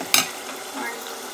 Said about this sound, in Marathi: मसाला पण भाजून घेते